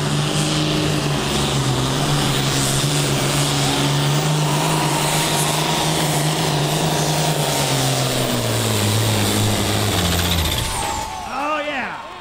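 Pulling tractor at a tractor pull, its engine roaring loud and continuous with a steady low drone that shifts pitch as it runs, under an announcer's voice.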